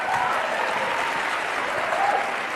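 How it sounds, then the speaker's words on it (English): A seated audience gives a steady round of applause, a continuous wash of many hands clapping at an even level throughout, with a few faint voices underneath. "Another round of applause."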